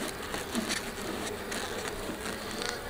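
Honeybees buzz steadily around a freshly opened hive left sealed for three years, a close, continuous droning hum with no voices.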